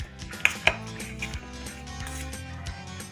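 Spoon mixing salt and spices into potato chaat in a bowl, with two sharp clinks of metal on the bowl early on, then softer scraping and stirring that fades toward the end.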